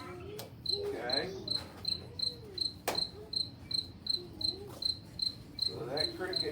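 A field cricket stridulating in a steady run of crisp, evenly spaced chirps, about two to three per second, while a person talks over it.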